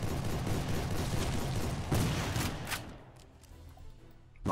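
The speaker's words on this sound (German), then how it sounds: "ich höre schon die Gatling" Rapid Gatling gun fire in a Call of Duty Civil War mission, a loud dense rattle of shots that booms strongly for about three seconds before easing off into quieter scattered noise.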